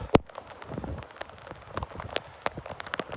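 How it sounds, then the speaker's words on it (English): Rain on a beach pattering with scattered sharp drops striking nearby surfaces, irregular and close. "That rain is cold, hitting my back."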